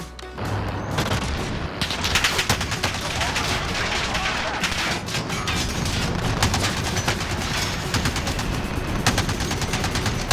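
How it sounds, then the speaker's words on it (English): Rapid gunfire from a Warzone shooter match, dense bursts of automatic shots rattling continuously at close range with some heavier booms mixed in, a voice talking over parts of it. "I shot him."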